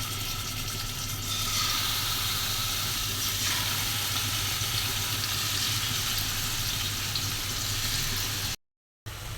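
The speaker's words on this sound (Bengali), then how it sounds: "এখন মাছটা ভেজে নেব।" Fish sizzling and frying in hot oil in a home kitchen, a steady, dense crackle that carries on loudly and evenly almost without a break, then cuts out briefly near the end before resuming.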